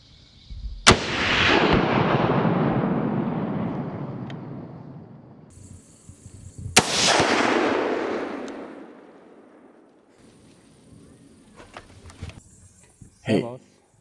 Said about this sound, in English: Yes, we shot one. I fired at another one, but I think I missed it.